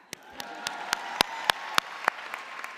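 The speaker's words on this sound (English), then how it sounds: "I'm sorry, now you can clap." Applause at a university music school commencement ceremony, a thin scattering of separate claps, fairly close and sparse rather than a full crowd ovation.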